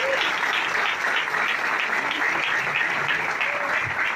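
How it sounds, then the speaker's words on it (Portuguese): A sales talk audience at a multilevel marketing company event gives steady, dense applause, a continuous loud wash of clapping hands that holds evenly throughout. "Pode aplaudir mesmo."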